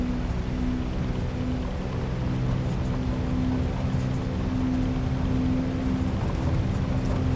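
Steady aircraft engine drone and cockpit hum in Microsoft Flight Simulator 2024 after the throttle is eased in, an even, constant roar with a faint tonal whine and no speech.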